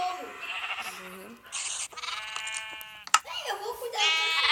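Game sheep bleat a few times in quick succession, mixed with chatter and other game sounds.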